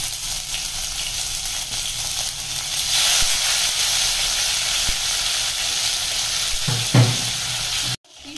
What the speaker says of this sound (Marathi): आता हे मॅरिनेटेड फिश आहे ते आपण याच्यात शॅलो फ्राय करून घ्यायचंय.